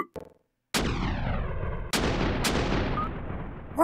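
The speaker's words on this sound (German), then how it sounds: "Wir werden beschossen." Cannon fire hits a ship in the video game Illusion of Time: a brief early crack, then three sharp booming blasts, each trailing off into a long rumbling decay with falling tones. Loud and close, with no talk.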